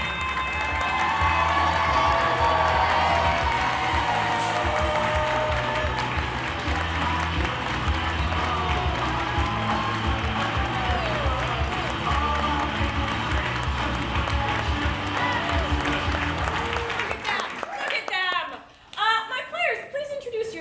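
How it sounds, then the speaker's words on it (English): An audience at a class showcase claps and cheers steadily, a dense wash of applause and shouting with voices mixed in, then thins out abruptly toward the end as someone speaks. "if you all can get some clapping going for me"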